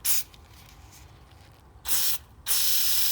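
Three short bursts of aerosol carburettor cleaner sprayed into a plastic Briggs and Stratton lawn mower carburettor, each a sharp close hiss separated by quiet pauses, the last burst lasting longest.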